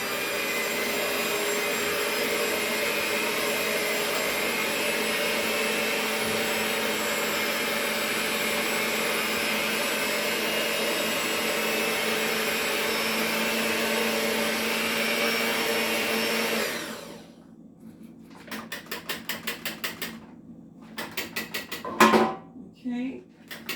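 An electric mixer whirs steadily through dessert batter for Thanksgiving baking, a constant loud motor drone that cuts off abruptly, followed by a few short bursts of mixing and clatter.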